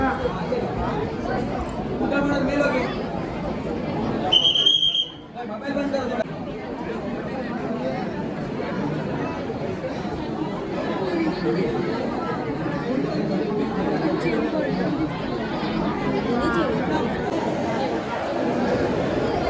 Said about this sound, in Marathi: भरपूर गर्दी.